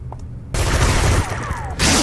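An enemy gunner opens fire in City of Heroes: after a brief quiet moment, a loud, dense burst of rapid automatic gunfire erupts and rattles on for over a second, then a second burst starts, close and without talk.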